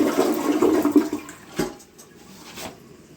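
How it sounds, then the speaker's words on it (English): A toilet in a powder room flushes nearby with a short gurgling rush of water that quickly fades into a quieter trickle as the bowl refills, followed by a couple of faint clunks. "So after the first flush, which is just a quick kind of flick flush, it flushed and the water came right back up to the level"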